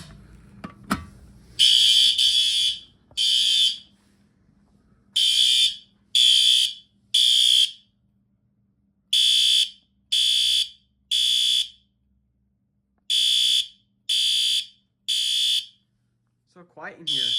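A fire alarm system in a building goes off after its pull station is pulled, sounding loud, harsh buzzing blasts in a repeating temporal pattern of three bursts separated by pauses.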